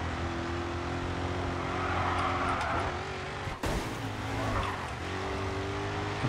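Race car engine drones steadily in the racing video game GRID 2, with a sustained roar, tire noise and a brief sharp dip partway through, loud and continuous without talk.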